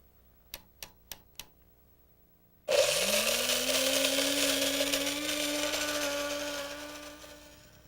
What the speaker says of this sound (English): that's where our burr grinder comes in handy